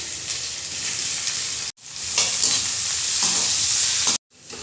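Chopped onion with crushed ginger and garlic hitting hot oil and crackled cumin seeds, a loud, dense, close sizzle that cuts out twice briefly before surging back.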